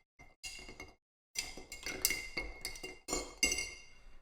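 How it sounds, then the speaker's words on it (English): Ice and a spoon clink against glass as a Frost's Snow Globe cocktail is stirred until cold, with short, bright, irregular bursts of clinks close by and no talking. "Put your snow globe in there. And stir until cold."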